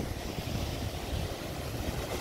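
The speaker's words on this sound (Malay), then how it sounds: "Nah, bagus nih ombaknya besar kali ini saudara" Large ocean waves roll and wash along the Aceh coast facing the Indian Ocean, a steady broadband roar of surf mixed with wind buffeting the microphone, continuous and fairly close, with no voices.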